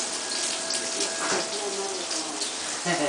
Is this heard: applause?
no